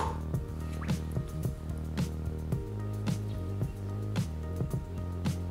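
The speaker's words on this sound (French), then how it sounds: "Donc on va immerger les paquets." Bags of bonsai substrate are immersed in a container of water, giving soft, irregular drips, gurgles and squishy bubbling pops at close range over a low steady hum, with no talk.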